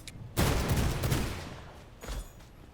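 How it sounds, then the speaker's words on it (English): Scrap piles blow apart in the V Rising video game: a sudden loud blast with a crackling, rumbling tail, then a second smaller burst about two seconds later, no voices. "I don't like the way that's exploding."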